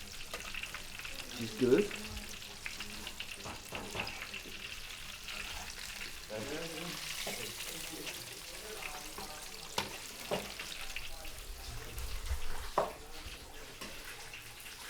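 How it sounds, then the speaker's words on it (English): Food sizzles and fries in a pan with some stirring and clattering, a steady crackling hiss running throughout while people talk intermittently nearby. "It's definitely sizzling though."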